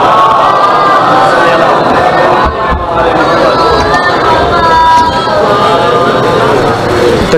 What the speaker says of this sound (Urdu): تکلیف نہ سمجھیں تو صلوات بلند آواز سے تلاوت کرنا۔